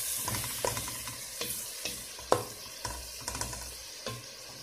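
Onions frying in a pan, a soft steady sizzle with faint scraping and stirring clicks throughout.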